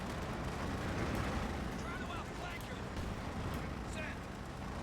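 Distant shell fire from a Sherman tank at maximum range in Company of Heroes 2, heard as a dense, rumbling barrage of battle noise with a commentator talking over it.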